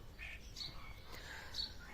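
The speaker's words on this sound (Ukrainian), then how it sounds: "у нас пташки вони злітаються" Faint, scattered bird chirps sound at a distance over a soft outdoor background, a few short high calls spread across the moment.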